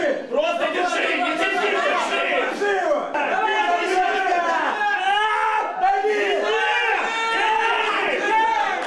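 Fans at an arm-wrestling competition roar without a break, many voices shouting and yelling together in a loud, close crowd that stays dense for the whole stretch.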